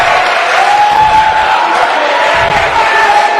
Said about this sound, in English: Do you hear that crowd, ladies and gentlemen?